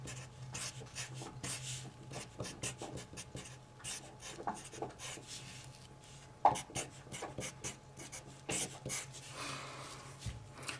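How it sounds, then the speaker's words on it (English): A pen scratching on paper nearby as a set of points is written down by hand, with soft irregular strokes, light rubbing and a single sharper tap about midway. "I'm actually going to write them down here."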